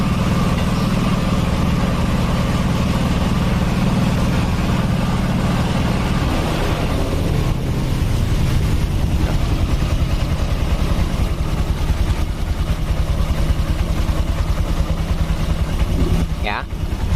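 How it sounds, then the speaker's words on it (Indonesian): An air compressor runs in a motorcycle workshop as a steady, loud mechanical drone that holds through the whole stretch, with a faint rising whine near the end. "ada mesin kompresor sedang dinyalakan, jadi agak sedikit berisik"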